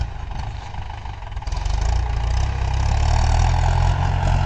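A Mahindra 575 DI tractor pulls a chisel plow across a field, its engine a loud, steady low rumble that swells slightly as it works, close by, with no one talking.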